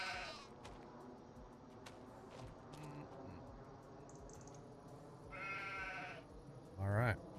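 Sheep bleating in the Farming Simulator 25 video game, a few short bleats rising over steady game ambience and background chatter, with a louder, closer bleat near the end.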